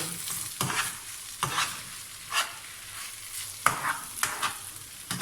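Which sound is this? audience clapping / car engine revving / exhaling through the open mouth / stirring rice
stirring rice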